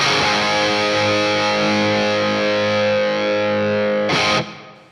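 Distorted electric guitar played through a Nux MG50li amp's Marshall Plexi emulation: a thick, sustained, loud chord that rings for about four seconds before ending in a brief bright burst of noise.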